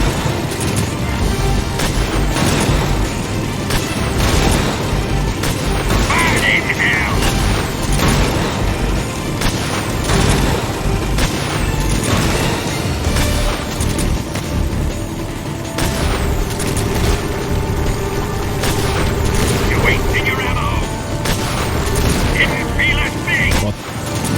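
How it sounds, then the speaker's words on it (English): C3 plastic explosives detonating in Metal Gear Solid 3: Snake Eater, a dense run of heavy booms and crackling blasts stacked close together, loud and continuous, with some metallic clatter mixed in. "The C3 exploded without a hitch."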